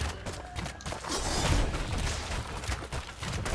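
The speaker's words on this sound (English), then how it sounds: "So I'm going to keep shooting this tower" Ranged attacks pound a tower in the online battle game Heroes of the Storm, a run of rapid, crackling impacts and thuds over constant dense battle noise.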